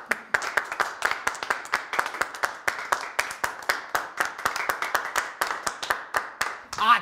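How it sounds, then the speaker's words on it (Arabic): A small group claps at a family retirement party, about seven seconds of brisk, fairly even hand claps that end in a slight swell. "اما الان مع كلمة المتقاعد ابوي، صفقوا له."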